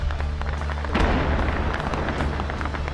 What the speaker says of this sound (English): Then frantic gunfire towards a threat overhead.